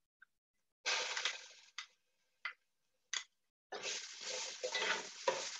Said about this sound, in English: My onions are browned up. I'm now going to add the tomato paste.